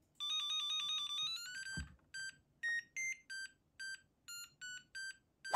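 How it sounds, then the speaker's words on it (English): An RTTTL ringtone melody plays from a smart home scene controller, a run of bright electronic beep tones: first a sustained rising tone sequence, then a brisk rhythmic pattern of short, evenly spaced beeps, loud and alone. "One of them allows you to play the RTTTL soundtracks on your device."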